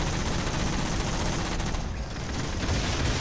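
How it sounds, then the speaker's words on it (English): Continuous, dense gunfire from an Elite shooting at the player in Halo 4, a steady loud barrage of rapid shots that runs unbroken throughout with no talking. "the heck is firing at the left side? Oh. It's probably an Elite with a Swarm Rifle."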